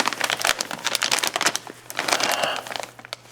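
Close, steady crinkling and crumpling of a plastic bag of perlite, with quick irregular rustles and sharp crackles running throughout.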